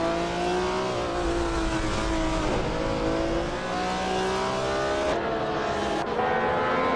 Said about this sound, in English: Bot Hikori Hamsam is driving a vintage Porsche 906, which is known for its agility and lightweight design.